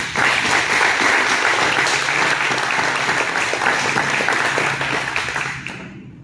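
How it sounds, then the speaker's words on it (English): Applause for an award recipient at an awards ceremony, loud, full and steady clapping from a room of people that tapers off abruptly at the end. "let's give Michael a round of applause for his award."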